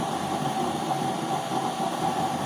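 Gas burner with a blower fan running at full power, its flame roaring in a steady, loud, continuous whoosh with a constant hum and no breaks.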